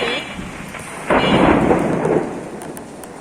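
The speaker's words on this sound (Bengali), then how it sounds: "ওই সাইড দিয়ে বজ্রপাত হচ্ছে" Thunder cracks and rolls loudly in a rainstorm, a sudden broad rumble breaking out after a second and fading slowly over steady falling rain.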